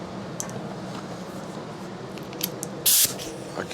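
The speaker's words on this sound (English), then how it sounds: "just give her a nice little spray" A short, sharp hiss of carb cleaner spray bursts onto a lawn mower carburetor, a single loud spritz lasting under a second amid quiet workshop background.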